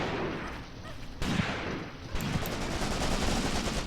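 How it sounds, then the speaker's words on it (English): Machine gun fire in the Graviteam Tactics: Mius-Front war game, dense continuous rattling bursts that swell louder midway, heard alone without talk. "We've got some machine gun fire coming in."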